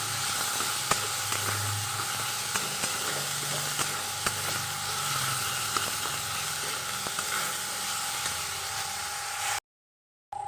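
Minced chicken with tomato, onion and ginger-garlic sautés in a pan with a continuous hissing sizzle and scattered scraping stirs, close and steady, ending in a sudden cut to silence.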